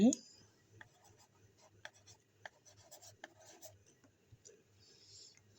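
A pen scratching across paper while a maths word problem is worked out, in short quiet strokes and taps with pauses between them, close and soft, with a person speaking at times.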